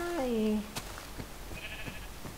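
A sheep bleats once in Minecraft, a short wavering cry, close and clear, followed by quieter background game noise.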